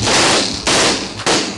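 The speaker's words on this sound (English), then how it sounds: "Stun grenades, flashbangs, lots of various names, but they all do the same thing." Stun grenades (flashbangs) go off in three loud, close, sharp bursts, each leaving a brief ringing decay before the next.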